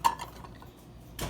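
A spatula scrapes and stirs sourdough starter in a canning jar, giving a sharp clink at first, then soft scraping and a final scrape, close and quiet with no talking.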